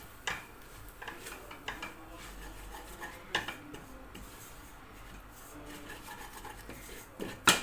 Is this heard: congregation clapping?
no